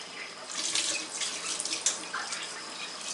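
Tap water running into a sink as a greasy pan is rinsed, a steady splashing hiss with small bursts and drips, close and clear.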